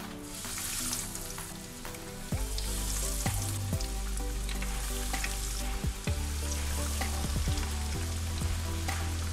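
Barracuda fish frying in a hot pan with lots of oil, a loud, dense, continuous sizzle and crackle close up, with occasional low thumps and clatter of handling beneath.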